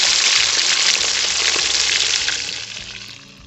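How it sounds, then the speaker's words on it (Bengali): Tilapia fish fries in hot oil in a pan, giving a loud, steady sizzle that fades slightly toward the end, with no talking. "মাছটা ভাজতেই যা টাইম লাগবে"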